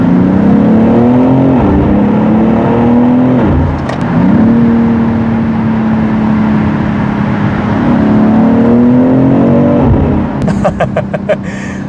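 BMW X3 M Competition engine roars loudly in a tunnel, a sustained high-revving drone with pitch rising and falling through gear changes, brief dips near four and ten seconds, and sharp crackling pops toward the end.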